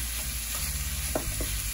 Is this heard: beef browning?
yes